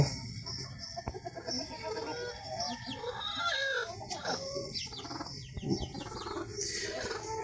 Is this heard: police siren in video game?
no